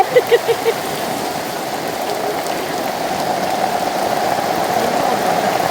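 Continuous rain falls steadily without letup, a dense, even hiss that holds the same level throughout, with a few faint tonal blips near the start.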